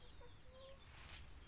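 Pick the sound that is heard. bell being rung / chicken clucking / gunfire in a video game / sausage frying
chicken clucking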